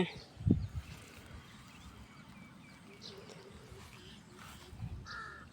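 A single loud crow caw near the start, then quieter calls and faint bird chirps over a steady low rural background.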